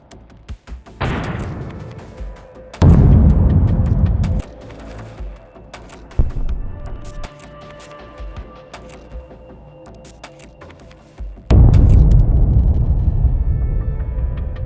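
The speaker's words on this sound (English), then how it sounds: "Ukrainian soldiers lying at the entrance to the bunker repeatedly detonate and destroy the bunker." Explosions as Ukrainian soldiers detonate a Russian bunker: several separate heavy blasts, each a sudden loud boom that decays into a rumbling tail, with the largest near the start and near the end and a quieter thud in between.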